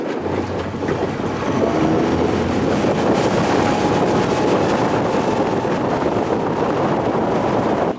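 A boat pushed slowly along by a Mercury tiller outboard motor while searching for barramundi, its low steady engine drone continuous and close, mixed with wind rush and water noise.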